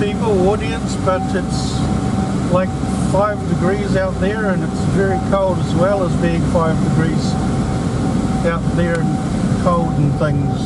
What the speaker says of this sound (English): Sorry about the fan